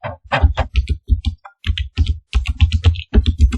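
Keys clack on a computer keyboard while a program comment is typed for a Schneider TM200 PLC, coming in quick bursts of close, crisp strokes separated by short pauses.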